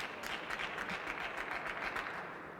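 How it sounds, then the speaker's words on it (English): Crowd applause and cheering erupt at a professional table tennis match in an arena, a steady broadband wash of clapping that stays moderately loud throughout. "when the crowd erupts like that"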